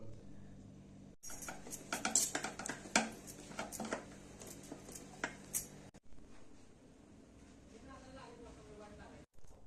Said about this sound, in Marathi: आणि आता ही गूळ चांगला विरघळून हलवून घेऊया चांगलं.